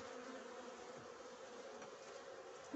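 Bees hum steadily around beehive frames in a lying hive, a soft continuous buzzing drone, faint and even throughout with no speech.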